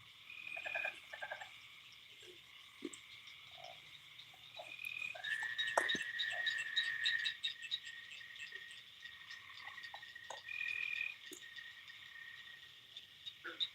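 Tree frogs and crickets fill a rural night by a catfishing spot, with layered high trills and croaks pulsing steadily and a few louder nearby calls standing out from the distant chorus. No one speaks.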